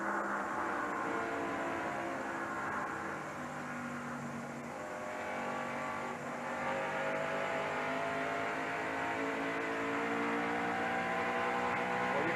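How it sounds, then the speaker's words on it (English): Stock cars racing in the 1990 NASCAR Winston Cup GM Goodwrench 500, heard from a bumper cam at around 150 mph: a loud, continuous engine roar with wind and road rush and shifting tones, alone without talk. "See how fast that pavement goes by as we look out that bumper cam of Harry Gant"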